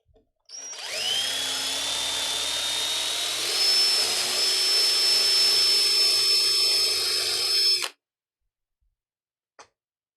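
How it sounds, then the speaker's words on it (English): A power drill whines steadily for several seconds while enlarging a tuner hole in an acoustic guitar headstock, loud and close, then cuts off abruptly, followed by a faint click. "Let's drill this out a little bit more."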